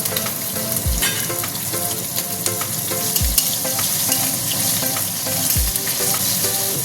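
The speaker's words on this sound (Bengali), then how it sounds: "সেই রসুনের কোয়া কটা একটু লাল করে ভেজে নেব" Peeled garlic cloves sizzle in hot oil for a rohu fish and jute-leaf curry, a dense continuous frying hiss up close, broken by three low knocks of a spoon against the pan.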